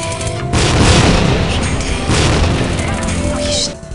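A grenade explosion in Tactical Ops: Assault on Terror gives a loud, booming blast with a long rumbling tail lasting several seconds before it cuts off, close and dominant.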